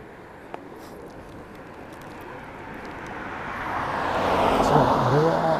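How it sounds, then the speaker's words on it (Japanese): A white jet airplane flies overhead near Misawa, its broad roar swelling gradually from faint to loud as it approaches, heard outdoors during a bicycle trip in Aomori. "三沢の飛行機の音かな。"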